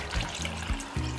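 Water pours over pieces of pork in a cooking pot, a steady close rush with low gurgling pulses, alone without speech.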